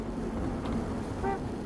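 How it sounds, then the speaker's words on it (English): Inside the Road 96 video game, a car horn gives one short toot near the end over a steady background of engine and road noise. "Oh, someone just honked."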